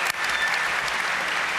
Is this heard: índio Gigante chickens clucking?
no